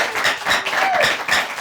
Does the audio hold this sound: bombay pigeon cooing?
no